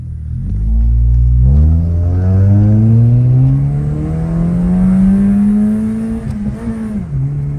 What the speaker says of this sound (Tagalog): Pagyayabang niya daw sa atin yung full exhaust ng kotse niya.